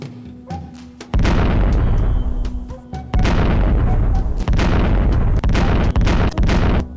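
Bombs blow up in the game Lode Runner Online: The Mad Monks' Revenge. Two heavy, loud booming blasts roll out one after the other, followed by a string of sharper bursts as the rumble continues.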